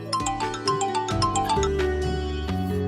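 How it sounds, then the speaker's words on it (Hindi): A melodic electronic phone ringtone plays a bright, bell-like repeating tune, loud and close, with no voices over it. "आपका फोन बज रहा है।"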